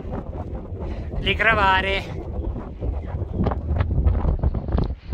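Gusty May wind buffets the microphone on the Valle Fredda della Remogna plateau near Monte Tre Confini, a rough rumbling rush under someone speaking briefly.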